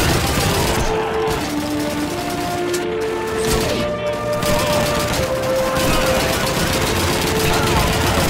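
Rapid machine-gun fire in a tank combat video game, a dense loud rattle of shots layered over engine rumble and game effects, running continuously with a voice talking over it.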